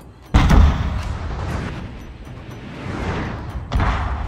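Artillery guns fire in a Total War: Shogun 2 Fall of the Samurai battle: two heavy, booming shots about three seconds apart, each trailing into a long, low rumble.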